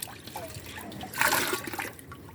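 Leftover rice water mixture is poured into a container of water for homemade liquid plant fertilizer, giving a close, gurgling splash that swells in the middle and then trickles off.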